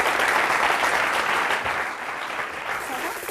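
A studio audience on a French television talk show breaks into brief, lively applause, a dense burst of clapping that stays strong throughout the few seconds.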